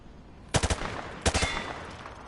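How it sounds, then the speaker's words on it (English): Two quick bursts of automatic gunfire from a weapon fired from the hip in a video game, each a rapid three-shot rattle, loud and close, half a second apart, over steady background hiss. "He sprayed bullets all over the damn place."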